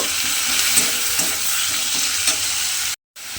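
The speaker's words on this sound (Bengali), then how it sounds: "সেই পেঁয়াজ বাটাটা আমি তেলের মধ্যে দিয়ে দিলাম। দিয়ে এবার পেঁয়াজ বাটাটা একটু ভেজে নেব।" Onion paste fries in hot oil, giving a loud, close, continuous sizzle with faint stirring scrapes, cut by a short gap of silence near the end.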